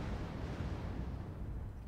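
LRM missile salvos launching and striking in MechWarrior Online, fired from an Atlas DDC mech carrying two LRM15 Artemis launchers, form a dense, continuous low rumble of blasts with no pause.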